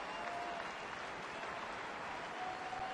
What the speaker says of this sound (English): Angels faithful giving him a nice round of applause.